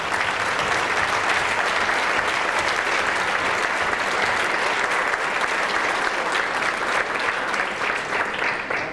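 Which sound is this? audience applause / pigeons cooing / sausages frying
audience applause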